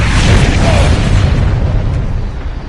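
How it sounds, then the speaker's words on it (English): A heavy mortar explosion in Star Trek Online, a loud close boom that rolls out into a long rumbling decay over a couple of seconds with no talk. "Mortar fire!"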